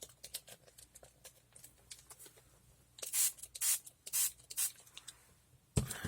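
Spray bottle misting water or paint during a brush painting session, five or six short hissing bursts clustered in the middle, close and fairly loud, among quieter brush taps and rubbing sounds.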